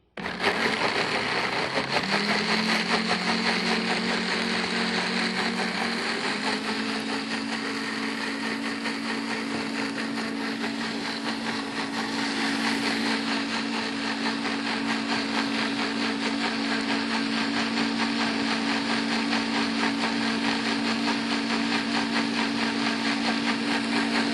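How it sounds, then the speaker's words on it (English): A blender whizzes red bell pepper and cashews into a pimento cheese sauce, a loud steady motor whir that holds throughout with a rising pitch shift early on as the blades catch. "we're going to whiz this all up till it's smooth and creamy"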